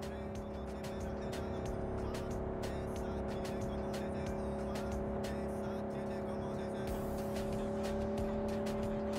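A car driven in Cyberpunk 2077 gives off a steady, moderately quiet engine drone with tonal hum and scattered ticks and clicks over it, no talk.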